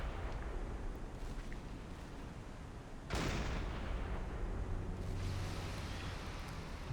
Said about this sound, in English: Explosions are also good. Fire and explosions.